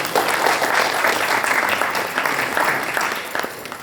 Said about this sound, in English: we have to give a big round of applause to them